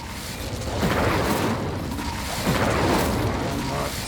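Incendio fire spell cast in Hogwarts Legacy, heard as a few roaring, whooshing fire bursts with low rumbling booms, spread across the clip with faint voice nearby.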